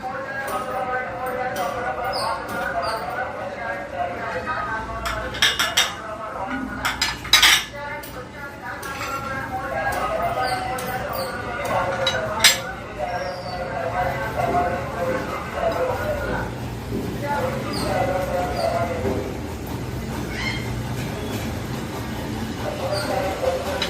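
Dates and dry fruits are mixed in a bowl, with scattered spoon clinks and scrapes over a continuous background hum while a person talks throughout.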